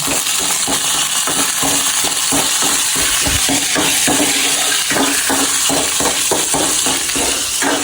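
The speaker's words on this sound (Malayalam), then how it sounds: "നെയ്യ് ഒഴിച്ചിട്ടുണ്ട് കേട്ടോ അത് ചൂടാകുമ്പോ നമുക്ക് അണ്ടിപ്പരിപ്പ് ഇട്ട് കൊടുക്കാം" Cashew nuts fry in hot ghee for a Malayalam-style macaroni payasam, giving a steady close sizzle with dense crackling and soft repeated stirring scrapes throughout, no voices.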